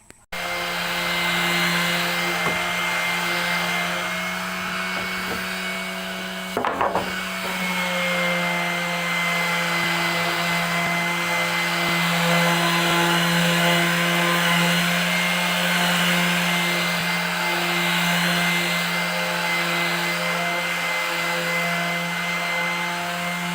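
A power tool drones steadily and loudly for the whole stretch while cutting timber on a budget house build in the Philippines, with one short break in its tone near the start.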